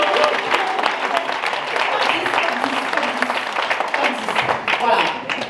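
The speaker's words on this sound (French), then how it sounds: "Applaudissez pour moi, s'il vous plaît." Audience applause at a French conference on digital business, steady clapping from a crowd with voices mixed in beneath, fairly even in loudness throughout.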